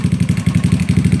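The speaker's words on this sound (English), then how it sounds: "I'm gonna rev the scooter" A GY6 scooter engine running under a wiring repair with a Ban Jing CDI, its loud pulsing putter rising and falling in a steady even rhythm, close by and alone.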